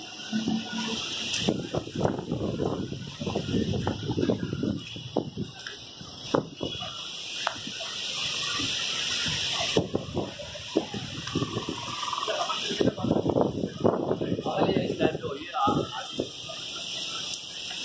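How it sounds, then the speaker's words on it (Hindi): Heavy rain with gusting wind in Saddar, a rushing wash of downpour rising and falling in surges, with people talking intermittently over the noise. "बहुत टाइट बारिश हो रही है।"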